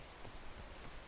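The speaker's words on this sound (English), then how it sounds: "I should not have done this while it was raining." Rainfall in the video game Peak makes a soft, even patter of drops on surfaces, quiet and continuous throughout the short stretch.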